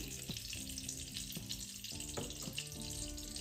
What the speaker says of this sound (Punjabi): ਕੜਾਈ ਵਿੱਚ ਆਪਾਂ 1 ਚਮਚ ਦੇਸੀ ਘਿਓ ਪਾ ਦੇਵਾਂਗੇ ਘਿਓ ਨੂੰ ਗਰਮ ਕਰ ਲਵਾਂਗੀ